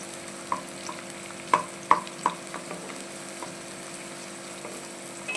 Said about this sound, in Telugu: ఒక ఎర్రగడ్డను అనమాట సన్నగా కట్ చేసుకున్న ఎర్రగడ్డను కూడా ఇందులో వేసేసుకోవాలి ఆయిల్లో కొంచెం ఫ్రై చేసేసుకున్నాము